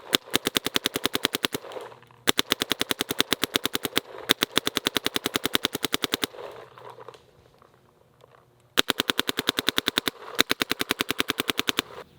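Shocker Era electronic paintball marker firing in rapid bursts, a fast even stream of sharp cracking shots in several strings separated by short pauses, close and loud, no talking.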